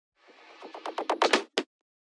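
A tech house drum fill rolls as a quick run of about ten accelerating, rising hits, then stops on one last sharp accent, played dry and alone.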